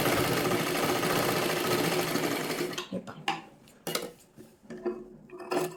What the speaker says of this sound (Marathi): आपल्याला पूर्ण शिलाई मारून घ्यायची आहे इथे